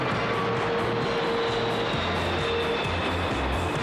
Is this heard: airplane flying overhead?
yes